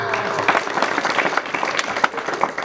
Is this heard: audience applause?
yes